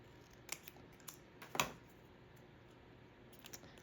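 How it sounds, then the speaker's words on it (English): Scissors snipping paper to cut out a small faux postage stamp, a few quiet, sparse clicks and snips, the sharpest one near the middle, close and alone. "I'm going to cut out one of these little faux postage stamps"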